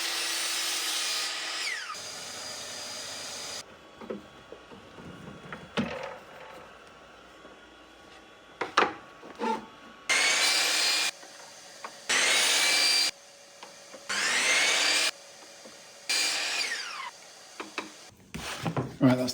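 Hand saw cutting through a wooden back plate for a wall-mounted tool holder, several bursts of steady back-and-forth strokes up close, separated by short pauses with scattered knocks and handling noise.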